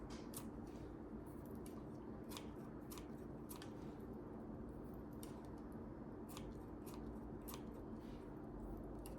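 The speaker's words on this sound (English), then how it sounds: "Okay, this is garlic chives. What I do with them, I usually cut them with the scissors." Repeated crisp snips of scissors cutting through garlic chives, a steady run of sharp clicks spaced irregularly, close up and alone with no talk.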